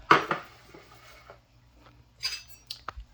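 A spoon stirs half a cup of xylitol in a pot over medium-low heat, giving a few scattered scrapes and light metallic clinks, sharpest at the start and again near the end, with quiet gaps between them.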